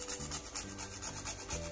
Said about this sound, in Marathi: थोडं जायफळ किसून घालू